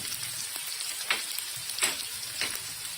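A tomato and garlic mixture sizzles in a hot pan while being stirred, a steady hiss with a few soft scraping strokes close by.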